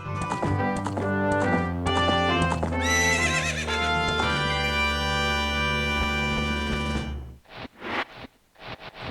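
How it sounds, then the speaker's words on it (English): Epona, the horse in The Legend of Zelda: Ocarina of Time, neighs and gallops. A sustained, tonal whinny-like layer fills the first seven seconds, then short rhythmic hoofbeat bursts follow near the end. "she's not just a horse to go from point A to point B"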